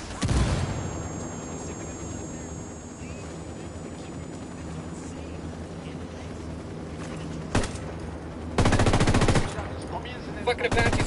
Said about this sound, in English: That Apache's gonna cut loose.